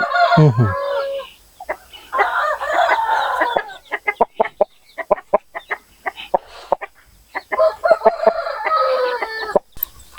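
A large country-breed game rooster lets out a crow at the start, followed by a string of sharp clucks and squawks from nearby chickens, loud and close.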